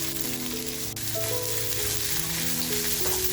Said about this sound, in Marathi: तेल छान आपलं तापले कांदा जो कापून घेतलाय तो कांदा टाकायचा आहे अगोदर